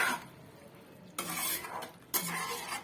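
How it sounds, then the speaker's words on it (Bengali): Fried paneer and vegetables tossed in a pan for chilli paneer: two sharp bursts of scraping and clattering as a spatula stirs against the pan, over a soft, low sizzle. "ভেজে রাখা পনিরগুলো দিয়ে আবার একটু ভালো করে নাড়াচাড়া করব"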